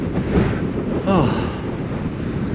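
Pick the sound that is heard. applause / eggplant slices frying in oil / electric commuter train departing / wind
wind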